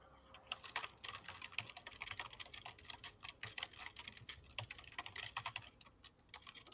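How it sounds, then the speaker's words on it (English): Loud, rapid typing on a computer keyboard close to the mic, with dense, irregular key clacks running continuously and no voices. "That's a lot of loud typing."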